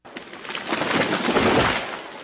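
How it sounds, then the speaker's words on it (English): A loud, sustained cracking and crashing rush builds and swells for a couple of seconds, like a large tree splintering and coming down. "That was the sound of a tree falling."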